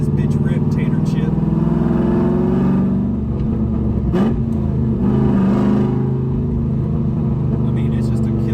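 An LS-swapped car with a Varex valve exhaust gives a deep, loud engine rumble that swells into a rev and then settles back to a heavy drone. It sounds close and continuous, with someone talking over it.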